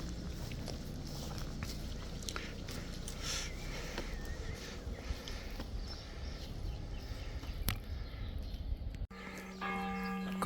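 Church bells ring out over a village in the Gers, France, faint and distant beneath steady outdoor noise and footsteps, with a clearer tolling tone rising near the end.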